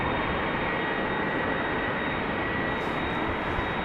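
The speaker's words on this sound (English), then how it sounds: "Posing for us is the Finnair A350." A Finnair Airbus A350 airliner sits at Amsterdam Schiphol in showery weather, with a steady broadband jet engine roar and a faint high whine holding constant throughout, fairly close and loud.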